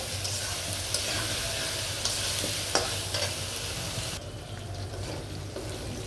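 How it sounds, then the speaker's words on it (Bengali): Onions and potatoes stir-fried in a pan for a wedding-style beef rezala, with a steady close sizzle and repeated scraping stirs throughout, and no talking. "এই পেঁয়াজের সাথে আলুটাও ভেজে ফেলবো।"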